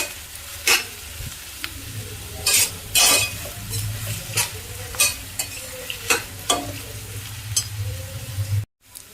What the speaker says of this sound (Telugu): చూడండి ఉల్లిపాయ అయితే ఎంత బాగా వేగుతుందో